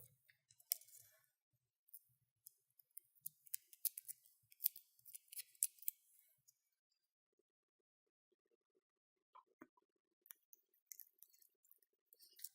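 Scissors snip away excess tape during a craft project, a series of small, close, crisp cuts in quick clusters separated by silent pauses, with faint handling sounds in between.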